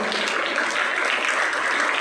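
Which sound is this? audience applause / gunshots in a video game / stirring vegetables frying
audience applause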